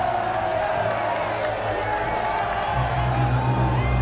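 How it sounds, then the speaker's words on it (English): A crowd cheers, whoops and claps in a dense, loud roar, with shouting voices mixed in and a low rumble rising toward the end, continuous throughout. "please, a round of applause for the team that made this possible"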